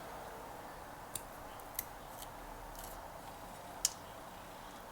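Scissors snip through a peeled plant stem in a garden: four or five faint, sharp clicks spaced unevenly over a steady, quiet background hiss.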